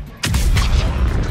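Gunfire in the sci-fi shooter Mass Effect 3 during a firefight: a sudden loud burst of shots followed by continuing rattling fire and booms, close and dense.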